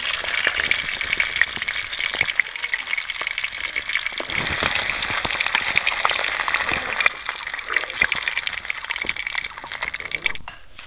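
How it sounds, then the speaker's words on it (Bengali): Close, continuous crackling and sizzling of magur fish frying in bubbling hot oil, a dense spitting hiss with scattered pops, steady throughout. "মাছগুলো আমার সব ভেজে নেওয়া হয়ে গিয়েছে। বাপরে, দেখছেন তো কিরকম ফুটছে"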